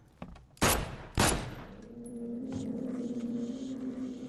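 Two loud, sharp gunshots ring out close together in The Sinking City, each a sudden broadband crack with a short decaying tail, followed by a low droning ambient hum.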